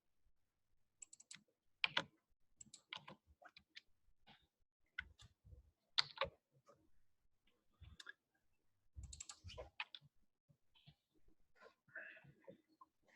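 Computer keyboard typing Java code, a run of quick key clicks in uneven bursts with short pauses, fairly close and alone with no talking.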